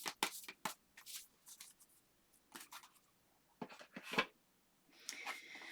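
Tarot cards being shuffled and dealt out one by one, a series of sharp papery slaps and riffles in bursts with short pauses, close up and alone with no voices.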